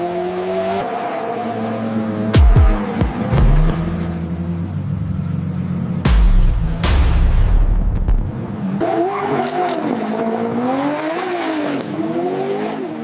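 A Nissan Silvia drift car: a loud engine holds high revs with rising and falling pitch, while bursts of tire squeal cut in and out, sounding close and continuous throughout.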